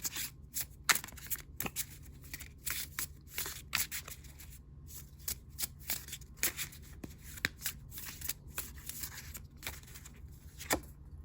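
A deck of tarot cards is shuffled repeatedly, crisp riffling bursts and soft slides in an uneven rhythm, close and quiet with no voices.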